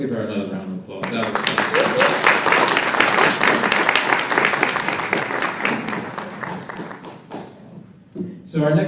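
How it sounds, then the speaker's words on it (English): Sustained applause from an audience at an elder abuse awareness presentation, dense clapping swelling in after a brief pause and holding steady for several seconds before tapering, with a short burst at the end. "Let's give her another round of applause."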